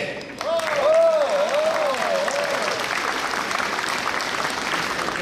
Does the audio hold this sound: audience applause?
yes